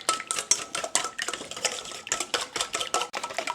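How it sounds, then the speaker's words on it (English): Eggs mixed with hot sauce are beaten hard for a pork chop batter, a fast, close run of rhythmic clicks and taps of a utensil against the bowl, steady and busy throughout with no talking. "And we want to beat this like it stole something."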